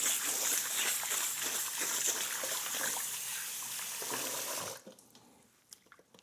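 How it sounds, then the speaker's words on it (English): Rice is rinsed under a running kitchen tap, a loud continuous rush of water splashing into the grains that cuts off abruptly, leaving faint scattered drips and clinks. "so we just wash the rice"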